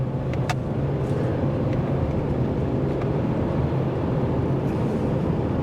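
A 2024 Subaru Crosstrek Sport accelerates with a steady, low engine and road drone heard from inside the cabin, holding an even loudness throughout with no talking.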